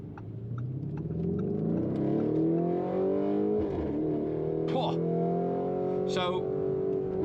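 A Lamborghini Urus Mansory Venatus drives on the Autobahn, its engine note droning steadily and rising in pitch through the gears. The engine is loud and continuous, with speech over it.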